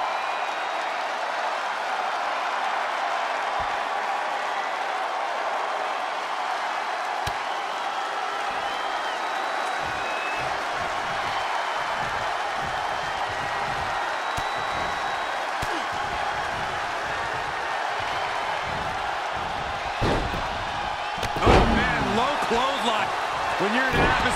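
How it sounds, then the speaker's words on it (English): A loud wrestling arena crowd during a WWE Raw 2022 championship match between two wrestlers roars steadily throughout with scattered thuds, a bigger surge near the end, and a commentator talking over it. "when you can't hear yourself think because the crowd's so loud"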